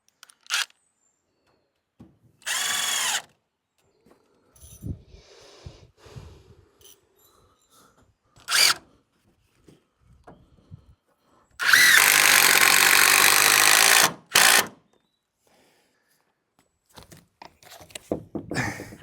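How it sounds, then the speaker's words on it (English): A power drill drives a screw during stone house roof work, whirring in several short bursts and then one long, loud run of a few seconds near the mic, with quiet handling between runs. "let me just put a screw in there for a second"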